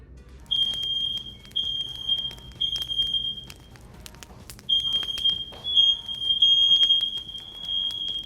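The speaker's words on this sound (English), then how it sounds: "Our smoke alarm has this thing where when anything steamy comes out of the oven, it likes to throw a fit and set the smoke alarm off." Home smoke alarm set off by steam from an oven, sounding a loud, piercing high beep in long repeated bursts with short gaps, with faint kitchen movement underneath.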